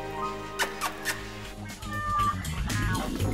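A cat meows several times in short, clear calls. Soft background noise runs under the meows, along with some faint other sounds.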